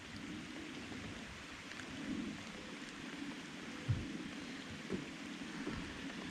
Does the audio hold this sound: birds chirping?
no